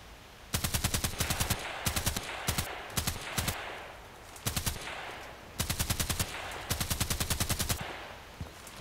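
Rapid bursts of pistol gunfire from a Glock in a sniper training video game, several strings of quick shots separated by short pauses, loud and close with a faint background hum.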